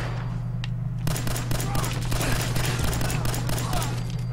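Rapid gunfire from a 10mm auto pistol in the video game Fallout 4, a quick burst of shots after a brief lull, ringing over a steady low hum of game ambience.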